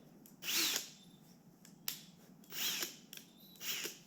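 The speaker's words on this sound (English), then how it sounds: "Make sure drill bits in forward." A power drill running forward whirs in several short bursts, close and fairly loud, with quiet pauses between them in a wood shop.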